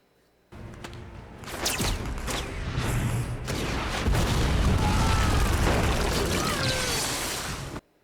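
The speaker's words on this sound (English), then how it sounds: "Straight up sending like bombs every 2 seconds." Bomb explosions in a fantasy TV battle scene, a sustained roar of booms, rumbling blasts and debris after a sudden onset, loud and dense until it cuts off abruptly.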